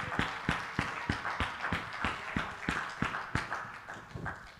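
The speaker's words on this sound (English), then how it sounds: "Go ahead and clap your hands." A church congregation claps in a steady, even rhythm, roughly two to three sharp claps per second, moderately close and continuous with no one speaking over it.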